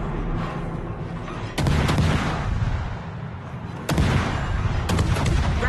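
Heavy naval guns boom in a warship video game battle, two big salvos landing amid continuous loud rumbling battle noise, with no voices.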